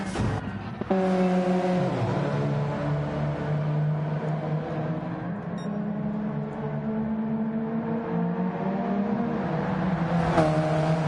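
A Gran Turismo 7 racing car on a push lap at Autodromo Lago Maggiore, its engine droning loud and steady with rising and falling harmonics as it accelerates through gears, with a sharp shift near the start and another near the end.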